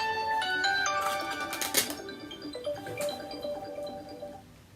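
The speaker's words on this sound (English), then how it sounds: "your phone should be ringing now" A mobile phone rings with a melodic electronic ringtone of stepped tones and harmonics, moderately loud and close, repeating over several seconds before fading.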